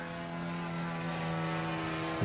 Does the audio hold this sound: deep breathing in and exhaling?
no